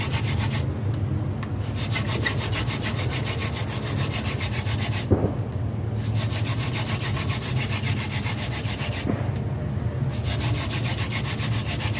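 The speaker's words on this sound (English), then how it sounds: "This pushing down and spinning produces heat and dust for coal" A wooden hand drill spins against a fireboard for friction fire, giving a continuous rhythmic rubbing and grinding, loud and close, with two brief pauses as the hands reset.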